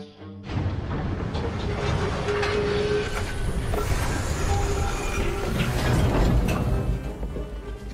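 A train in the Assassin's Creed Syndicate video game rumbles along loudly and continuously, with rattling carriages and clattering, metallic mechanical noise throughout.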